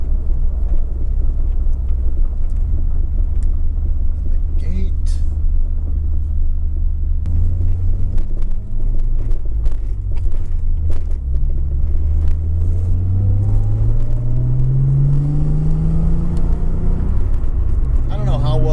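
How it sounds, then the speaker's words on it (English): A clean Nissan Z car's six-cylinder engine sends a steady, loud exhaust rumble that rises in pitch as it revs, with people talking over it throughout. "The exhaust note's going to come through on the camera, but it sounds really good."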